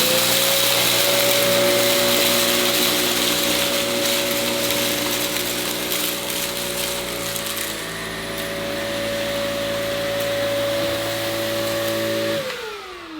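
Samsung Powerstick Pro VS8000 cordless stick vacuum cleaning a floor strewn with sand, a loud steady motor whine with strong tonal hum, pitch shifting slightly midway before the motor winds down at the end.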